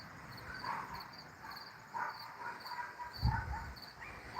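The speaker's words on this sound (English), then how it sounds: "I'm sitting on my porch listening to my neighbor's dogs bark." Neighbor's dogs bark outdoors near a porch, a few muffled woofs spaced apart at a moderate distance, over a steady bed of insect chirping and faint outdoor noise.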